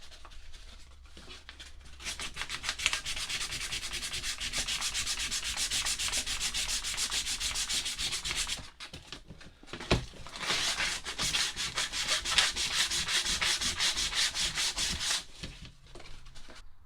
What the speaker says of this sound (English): I shall give this a sand down to stop it, to take off all the old rubbish and the old glue